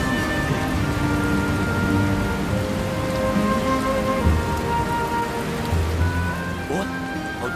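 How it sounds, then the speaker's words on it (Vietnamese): Steady rain pours throughout a scene in a Vietnamese Tet comedy film, a dense continuous hiss of drops on surfaces with a low rumble beneath and faint voices underneath. "Giờ mà có cơn mưa nữa thôi là đi chết rồi."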